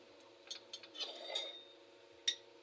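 A spatula stirs bay leaves in hot oil in a wok, giving a few faint metallic clinks and scrapes spread over the moment.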